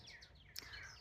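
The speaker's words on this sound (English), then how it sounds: "We can hear the birds." Robins chirp outdoors in mid-March after a snowy winter, a few quick high tweets and a brief sharper call, faint and somewhat distant.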